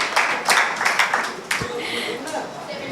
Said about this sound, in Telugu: ఆడియన్స్కి చప్పట్లు కొట్టాలి.